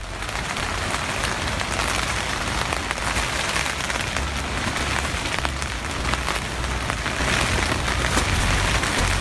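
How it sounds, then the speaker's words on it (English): Steady rain patters densely on the fabric of a four-person cabin tent in the early morning, a close, even hiss of countless drops with no pauses and no voices. "This is the only real rain that's happened overnight"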